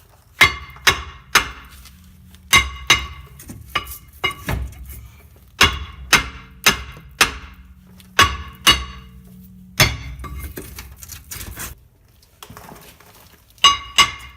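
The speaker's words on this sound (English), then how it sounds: "So you'll have to hit the rotor and then spin it a few times to break all the rust free to get it off." Hammer blows strike a rust-seized front brake rotor on a Dodge Nitro to free it, loud sharp metallic clangs in quick irregular bursts of two to four hits with short pauses between, no talking.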